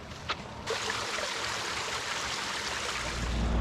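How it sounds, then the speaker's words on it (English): A creek flowing nearby outdoors, a steady broadband rush of water that continues throughout and grows slightly stronger at the end, with a couple of brief knocks near the start. "There's a creek right here, dude."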